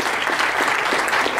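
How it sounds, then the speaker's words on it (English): A dinner audience gives Steve a big round of applause, dense steady clapping from many hands close by and fairly loud throughout. "Let's just give Steve also a huge round of applause."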